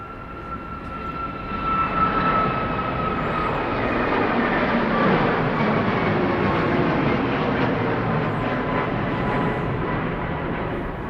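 A NetJets Bombardier Challenger 350 jet at Dallas Love Field whines and rumbles as it prepares to take off, a steady engine roar with a high tone, growing slightly louder and holding.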